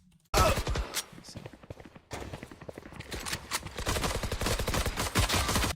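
Rapid gunfire in a video game, a dense stream of sharp shots in two loud bursts separated by a brief pause, close and dominant with no voices over it.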